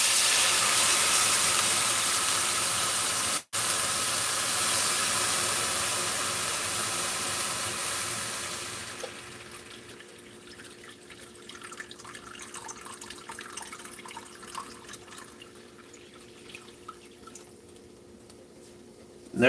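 Water poured from a cup into a pot while making soup with grilled cheese gives a steady, loud rushing splash that thins into softer trickling and dripping, close by with no talk.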